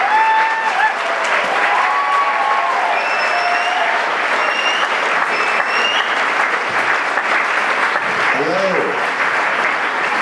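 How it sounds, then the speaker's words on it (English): An audience gives a sustained round of applause for a speaker at a talk, dense steady clapping filling the room at full volume with a few voices and cheers mixed in. "So now let's give him a real round of applause."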